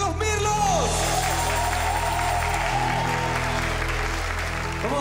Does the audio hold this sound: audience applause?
yes